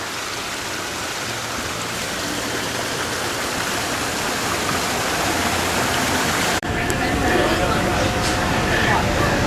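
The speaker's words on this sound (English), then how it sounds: "Here's the upper waterfall." A loud, steady rush of an upper waterfall at a mountain botanic garden in Gatlinburg, Tennessee roars continuously, close by and unbroken, with a brief break in the sound midway.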